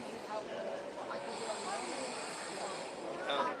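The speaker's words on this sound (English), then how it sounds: "We have a Flying Scotsman with real steam there." A steady hiss of real steam from a model Flying Scotsman locomotive at a model railway show, continuous and fairly even throughout, with a faint brief higher whistle-like tone near the end.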